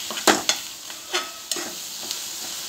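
Mashed eggplant bharit is stirred in a pan with a spoon, giving a few sharp scrapes and knocks over a soft, steady cooking hiss.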